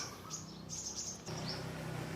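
Birds chirp and sing in a shady, tree-filled garden cafe in rural Sisaket, Thailand, with thin high calls repeating over a steady low background hum, faint and somewhat distant, no voices.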